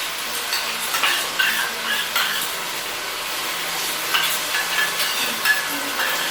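Ground spice paste frying with browned onions for chicken kosha, a steady close sizzle broken by repeated scraping stirs and light clinks of a spoon against the pan.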